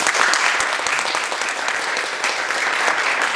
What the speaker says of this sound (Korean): 박수로 한번 하나님